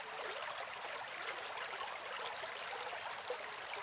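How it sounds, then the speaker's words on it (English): Gentle river water flowing and lapping in a steady, continuous wash that stays even and close throughout, with no voices. "take one final moment to listen to the river's gentle lapping"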